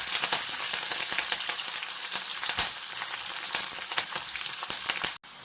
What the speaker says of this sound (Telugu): ఇప్పుడు మనం పచ్చిమిరపకాయలు కరివేపాకు వేసేసుకుందాం